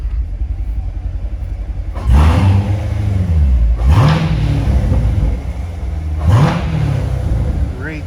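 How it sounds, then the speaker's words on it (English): A 2017 Corvette Grand Sport 2LT idles with a deep rumble, then revs three times in sharp bursts, each rise and fall of the engine loud and close. "Great sound to it. Love the Corvette."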